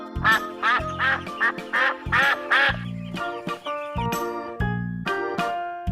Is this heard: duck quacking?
yes